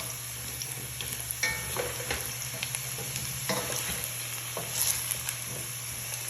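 Potatoes fry in a pan with a steady, close sizzle and crackle, sometimes stirred, under a constant low hum from the kitchen.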